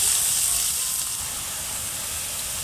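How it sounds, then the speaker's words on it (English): Onions frying in a pan with cumin seeds give a steady, close sizzle and hiss that stays even throughout. "So we're gonna cook the onion until it's light golden."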